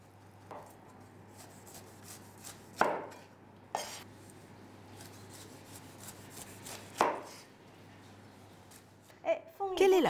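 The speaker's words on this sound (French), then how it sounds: "On va couper l'ananas." A kitchen knife cuts a pineapple for a pineapple salade, with a few sharp isolated chops spaced seconds apart over a quiet background and a last cluster of cuts near the end.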